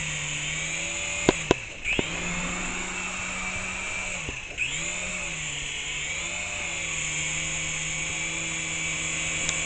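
RC helicopter in flight, a sustained high whine from its spinning propellers with pitch dips as the rotors slow and recover, steady and fairly distant, with a few sharp clicks.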